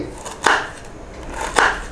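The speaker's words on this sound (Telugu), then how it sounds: "తర్వాత ఈ అల్లం ముక్కను చిన్న చిన్న ముక్కలు కట్ చేసేసుకోండి" Two crisp knife strikes land on a cutting board about a second apart while fresh ginger is cut into small pieces by hand, close and clear with no talk.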